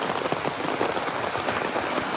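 Heavy rain pours steadily onto a house terrace, a dense, even hiss of drops striking the surface with no pauses, close and fairly loud throughout.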